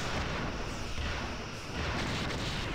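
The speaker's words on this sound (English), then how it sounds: "Fire all of the torpedoes!" Photon torpedo fire in a Star Trek video game: a dense, continuous barrage of booming blasts and rumbling explosions fills the space, loud and unbroken, with no clear gaps between shots.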